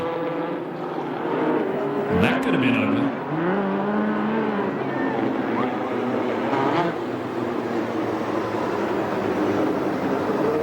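USAC sprint cars and midgets race on a dirt track at Perris, California, engines droning and rising in pitch as they pass, with crowd noise and a commentator speaking over them.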